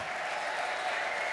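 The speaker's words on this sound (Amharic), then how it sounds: "እልልታ ጭብጨባ ይታለ" A congregation at a church deliverance service claps steadily in a dense, even wash of applause. High ululation may be mixed in, heard at moderate distance for a moment.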